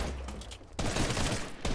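Rapid bursts of gunfire from a Fortnite match crackle in quick succession, a dense volley cut by a short pause, then resuming with another sharp burst at the end.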